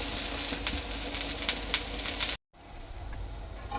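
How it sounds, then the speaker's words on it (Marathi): Eggplant slices frying in oil in a pan over medium heat, a steady close sizzle with faint popping crackles that cuts out briefly and then returns quieter. "आणि थोडंसं मध्यम आचेवर ही वांग्याची काप तळून घ्यायची आहे।"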